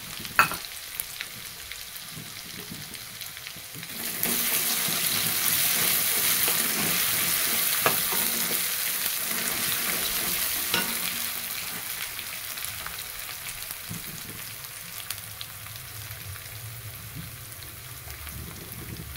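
Spice masala with chili powder and turmeric sizzles and fries in a pan, a steady close crackle with a brief louder burst of hiss, no voices.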